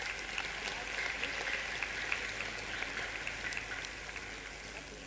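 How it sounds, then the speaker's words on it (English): An audience at an Easwaramma Day celebration gives students a round of applause, a steady patter of many hands that fades slightly toward the end. "Let us now give them a big round of applause"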